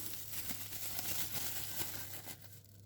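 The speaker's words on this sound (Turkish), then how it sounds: "Poşetini de kaldırıyorum." A plastic bag crinkles and rustles softly as it is pulled off risen poğaça dough, a faint, close, continuous crumpling with no speech.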